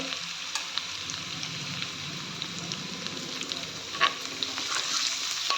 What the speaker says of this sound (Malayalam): ഇഞ്ചി മൂത്തിട്ടുണ്ട്. ഇനി നമുക്ക് വെളുത്തുള്ളി, ഒരു 6 അല്ലി വെളുത്തുള്ളി